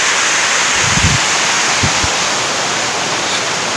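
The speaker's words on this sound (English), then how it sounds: "This river is raging after all the rain." A river swollen after rain roars in a loud, constant wash, with a few faint thuds near the start.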